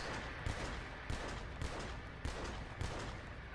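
Steady video game gunfire, about six evenly spaced shots cracking out in a regular rhythm over a constant noisy background, fairly quiet and with no talk.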